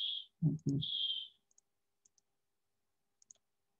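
A computer mouse gives a few light, close clicks while video clips are selected and deleted in editing software, with short bursts of a tone and a brief voice early on, then sparse isolated clicks.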